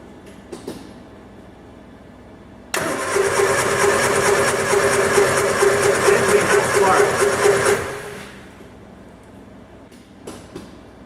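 A 1967 Triumph Spitfire engine cranking over with a freshly fitted coil, cap, rotor, points and condenser, a loud steady churning that starts abruptly, runs about five seconds and then stops, with faint workshop noise before and after.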